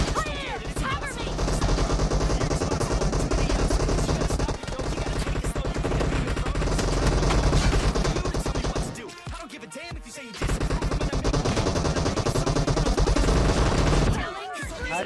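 Sniper rifle and other gunfire in the mobile battle game PUBG Mobile, dense loud repeated shots over music and game sound, with a brief quieter gap near the end of the stretch.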